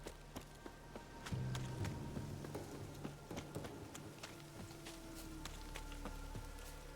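Steady rainfall in The Witcher 3: Wild Hunt, a soft even wash of drops with scattered sharper ticks and footsteps-like taps throughout, faint and continuous with no talking.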